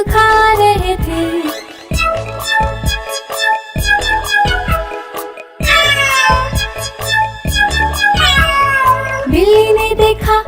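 Cartoon-style cat meows with rising, gliding cries, heard several times over a bouncy Hindi nursery-rhyme music track with steady rhythm and loud instruments.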